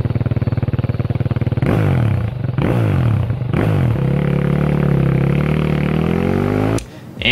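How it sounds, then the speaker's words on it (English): A single-cylinder dirt bike engine idles with a rapid, even thump, then is blipped loudly three times and holds a higher steady rev before dropping off near the end. "Most dirt bikes you're gonna see are gonna be single cylinder engines."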